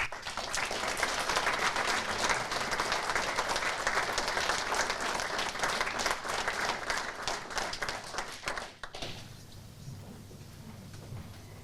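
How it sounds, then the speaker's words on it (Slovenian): Dense, sustained audience applause fills a university awards ceremony hall, loud and steady for about nine seconds before cutting off abruptly to quiet room tone with a low hum. "mu namenjamo še en aplavz"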